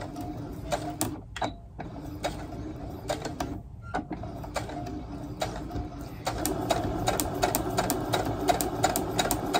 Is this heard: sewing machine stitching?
yes